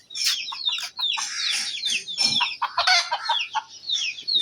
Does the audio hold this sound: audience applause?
no